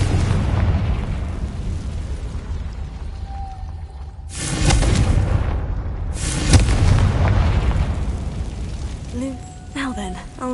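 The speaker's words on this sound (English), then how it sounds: "Confringo!" Confringo spell explosions in Hogwarts Legacy burst out as two loud, deep booms a couple of seconds apart, each with a crackling tail, over a low rumbling background with some speech.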